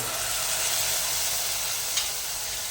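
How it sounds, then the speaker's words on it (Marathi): Ginger garlic paste sizzles steadily in a hot pan with softened onion, a continuous bright frying hiss that stays loud and close with no voices. "आणि आलं लसूणचा कच्चा वास जाईपर्यंत आपण हे चांगलं परतून घ्यायचं आहे"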